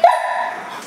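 A dog gives one loud, close bark that trails off into a brief whimpering yip, alone and with no talking.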